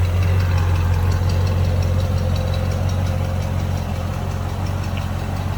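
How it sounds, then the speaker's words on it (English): A 1928 Marmon Model 78 roadster's inline eight-cylinder engine idles steadily and close by, a smooth low rumble that holds even and continuous with no talk over it. "Inline 8-cylinder, purring away."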